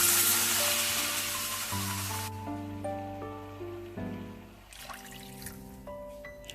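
Water poured into sautéed upma in a hot pan sizzles and hisses loudly for about two seconds, then fades as background music continues.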